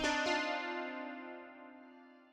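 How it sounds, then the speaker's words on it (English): A dry dulcimer-like synth tone from Shambhala sounds once, bright and plucked, then rings out and fades slowly over a couple of seconds, close and alone. "It's a dulcimer-like sound from Shambhala"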